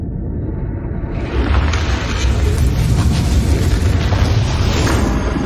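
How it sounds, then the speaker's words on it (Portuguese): A massive asteroid impact explosion booms out, a deep rumbling roar that swells after a second and sustains loud and heavy to the end, with a crackling, eruptive texture. "O impacto carregou poder mais explosivo do que 10 bilhões de bombas atômicas"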